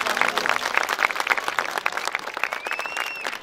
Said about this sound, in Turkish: Alkış istiyorum, alkış.